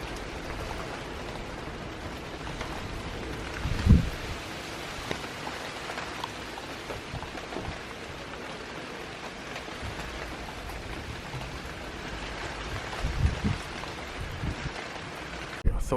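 Steady rain falls outdoors around a steel mesh fire pit, a continuous soft hiss of drops with a few closer knocks and thumps.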